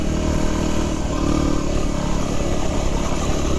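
A Yamaha WR250R motorcycle rides along a dirt trail toward Gunn Point, its engine droning loud and steady with wind rush and rattling from the rough ground throughout.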